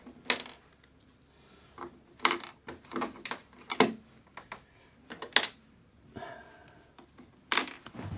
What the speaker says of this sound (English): Then my 4 remaining M4 screws I will quickly drop in the holes.